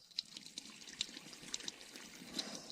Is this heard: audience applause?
no